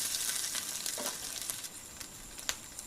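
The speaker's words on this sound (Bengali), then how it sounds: "তো এখন কড়াইয়ের মধ্যে খুব ভালোভাবে একটা পোচ বানিয়ে নিচ্ছি।" Eggs sizzle steadily as they fry and are stirred in a kadai, with a soft continuous crackle and occasional clicks of a utensil, close and moderately quiet with no talking.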